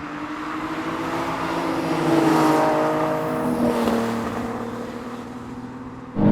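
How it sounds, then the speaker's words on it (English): Nissan Z cars in a drag race, engines droning and revving loudly with rising pitch as they speed past, a steady roar that swells and then fades. "Oh, this is what happened in the drag race."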